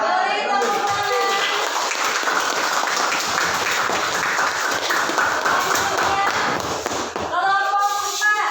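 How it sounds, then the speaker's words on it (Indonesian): Classroom applause after a student group finishes its presentation, a dense wash of many hands clapping steadily for about seven seconds, with a voice briefly heard at the start and end. "Beri tepuk tangan."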